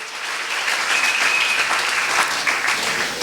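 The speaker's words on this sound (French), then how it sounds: "Acclamez encore une fois la parole de Dieu." A church congregation claps together in steady, continuous applause that fills the room, with no voices standing out.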